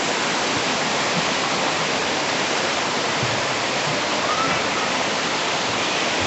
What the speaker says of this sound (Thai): ก็จะได้ยินเสียงน้ำตกที่ ชัดเจนมากยิ่งขึ้นนะครับ